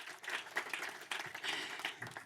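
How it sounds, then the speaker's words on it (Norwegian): An audience at an event on AI safety at Arendalsuka gives a round of applause, a dense, moderately distant patter of many hands clapping steadily for a couple of seconds. "Vi kan sikkert gi en applausrunde til"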